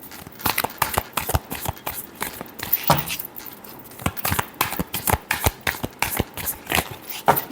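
Tarot cards shuffled by hand over several seconds, a close series of sharp flicks and riffles in an uneven rhythm with a brief pause near the middle.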